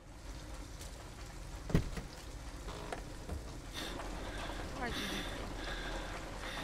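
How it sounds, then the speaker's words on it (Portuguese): Rain setting in within Detroit: Become Human, a steady broadband hiss of rainfall running throughout at moderate level, with a brief thud near the start and people talking over it. "Pronto, agora vai entrar a chuva."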